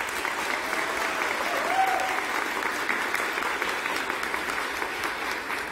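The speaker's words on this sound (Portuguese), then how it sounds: "Uma salva de palmas para a Tatiana." Steady applause from an audience at the inauguration of new laboratories at a federal institute, dense and even, holding throughout with a faint voice briefly audible in the middle.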